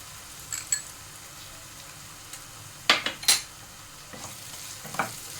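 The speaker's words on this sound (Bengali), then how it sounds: "এবারে আমি এর মধ্যে দিয়ে দেবো একটা টমেটো" A soft continuous sizzle from a hot pan as a tomato is added for palak paneer, broken by a few sharp clattering scrapes of a spoon against the pan.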